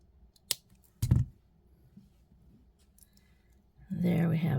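Wire cutters snip excess wire off a beaded necklace in two sharp, close clicks, the second heavier, followed by soft handling noise before a person starts speaking.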